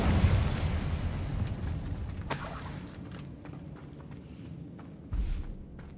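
Incendio fire spell in Hogwarts Legacy, a fiery burst with rumbling low-end crackle up front, then a sharp bright crack and scattered pops, and a brief thump near the end.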